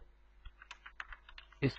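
Keys clatter on a computer keyboard as a name is entered into a form, a quiet, irregular run of light taps ending in one sharper, louder keystroke.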